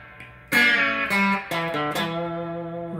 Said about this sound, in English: like descending bend with the two notes